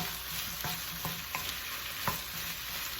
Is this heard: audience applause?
no